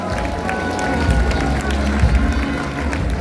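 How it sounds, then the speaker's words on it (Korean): An audience at a launch ceremony in a hall at the Gwangju Kim Dae-jung Center applauds to welcome a speaker, with dense, steady clapping throughout and voices mixed in beneath it. "여러분 큰 박수로 맞아주십시오"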